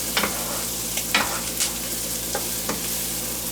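Chicken fajitas sizzle in a pan on a very hot cooktop, a steady frying hiss punctuated by several scraping stirs at irregular intervals, close and moderately loud with no talking.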